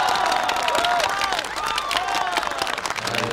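An audience at a stage show applauding, with dense clapping and crowd cheers carrying on steadily for a few seconds.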